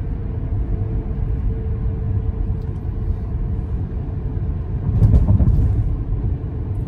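A 2021 Maserati Levante driving through turns in sport mode, heard from inside as a steady low engine and road rumble that swells briefly near the end.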